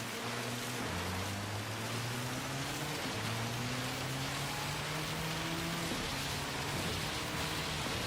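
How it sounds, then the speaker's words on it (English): Heavy rain hammers down in a wet racing game, a thick constant hiss with car engine notes climbing and dropping underneath, and no talk over it. "Listen to it banging down."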